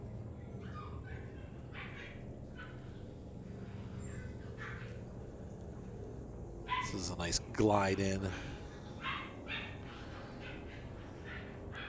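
Dogs barking and scuffling in play somewhere in the background, a short cluster of yelps and barks midway, under steady talk over a low room hum.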